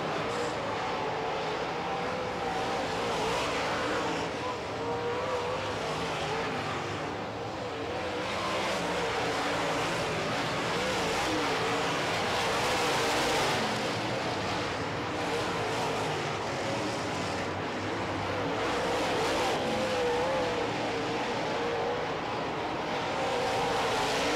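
Race cars circling the speedway at Red River Coop Speedway's Thursday Night Thunder, a continuous engine roar from a pack of cars that swells and fades slightly as they lap, heard from the stands at a distance.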